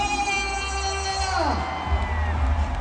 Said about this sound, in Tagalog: atin pong tanggapin sa mainit nating palakpakan at sigawan ang susunod na Pangulo ng ating bansa